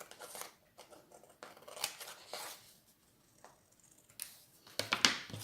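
Scissors snip through paper in short, close crisp cuts spread unevenly across the stretch, the last few louder and sharper, with no talking.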